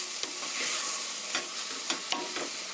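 Seasoning and soy sauce sizzle in a pot as pork stew ingredients are stir-fried, a steady close hiss broken by several sharp scraping stirs, with no voices.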